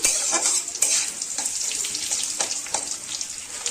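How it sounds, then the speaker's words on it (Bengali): Potatoes frying in oil with whole cumin and bay leaves, a bright close sizzle with crackling pops and occasional stirring scrapes, steady throughout with no talk. "আলুটাকে একটু নুন আর হলুদ দিয়ে লাল লাল করে ভেজে নেব"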